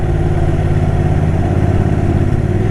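Motorcycle engine droning steadily at close range during a ride on a wet road on the descent to Geiranger Skywalk, a continuous loud hum with no pauses and no talk over it.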